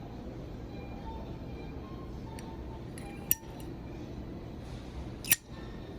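Brass-coloured Zippo armor case lighter, its lid snapping open and shut: two sharp metallic clicks about two seconds apart, close and crisp over a quiet room.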